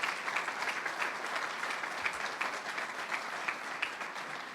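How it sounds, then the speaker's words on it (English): A crowd claps for the governor at an outdoor public announcement in Niagara Falls, steady applause with distinct individual claps popping out, moderately distant and lasting several seconds. "Let's have another round of applause for the governor."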